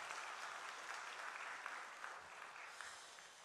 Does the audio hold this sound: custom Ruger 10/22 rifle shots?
no